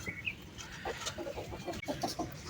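Aseel rooster and hen clucking on open ground, with short, scattered clucks and soft calls rising over a low outdoor background.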